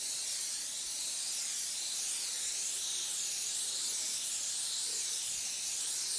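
A spray gun lays Snow White Pearl paint onto a vehicle, a steady close airy hiss that holds unbroken and even from start to finish with no voices.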